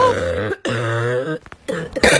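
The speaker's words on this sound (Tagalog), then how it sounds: "ang crunchy ng ubo mo ha, crispy" A harsh, raspy cough-like throat-clearing sound, loud and close, with a rough drawn-out rattle followed by a couple of short gruff bursts.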